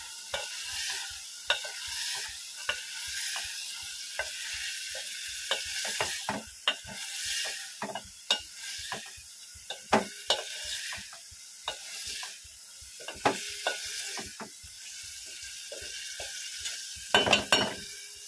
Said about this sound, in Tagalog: So, fry muna natin. Mga 5 minutes.